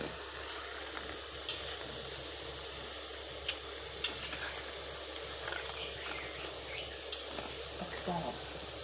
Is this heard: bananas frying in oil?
yes